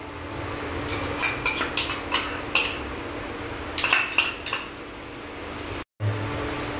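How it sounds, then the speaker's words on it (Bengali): Sour yogurt being whisked or beaten in a bowl, with a series of quick metallic clinks of utensil against the dish in irregular bursts over a low background hum, close by. "দইটাকে এবার ফাটিয়ে নিতে হবে এরকম করে।"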